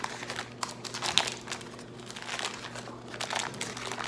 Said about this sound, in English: So you're just going to peel the parchment paper away.